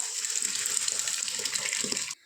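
Water pours steadily into a pressure cooker holding cooked dal for sambar, a loud continuous gush close by that stops abruptly near the end.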